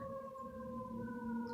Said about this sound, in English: every single time I go to record on YouTube, here comes the sirens